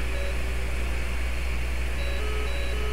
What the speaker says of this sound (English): Lots of beeps.